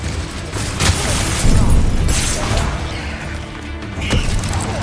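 Bombarda blasting spell in the Hogwarts Legacy video game, booming crashes and bursts over continuous rumbling game noise, several heavy hits spread across the stretch.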